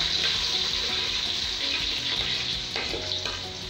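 Onions hit hot oil in a pan for a Hyderabadi khichdi and mutton keema, giving a loud, continuous close sizzle and crackle with a few stirring scrapes.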